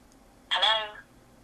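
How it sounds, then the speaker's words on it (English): A phone call ringing out, a single half-second burst of ringtone-like tones, fairly close and clear, with no talk over it. "Are you ringing Kath?"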